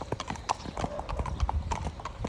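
Two horses being hacked along a main road, hooves clip-clopping on pavement in a busy uneven rhythm, close by, with faint voices and a soft snort mixed in.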